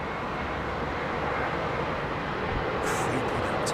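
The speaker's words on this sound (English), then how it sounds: "Listen to those engines, man." Jet airliner engines at Heathrow Airport roar steadily and loudly throughout, a broad continuous rumble with a faint hiss rising near the end.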